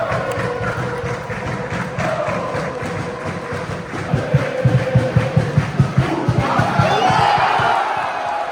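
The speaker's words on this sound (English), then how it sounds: "This crowd is insane, so I want to check out that energy." A loud, roaring crowd at a hockey tournament arena, with steady massed noise and a stretch of rhythmic chanting or stomping pulses midway, swelling into a brighter cheer toward the end.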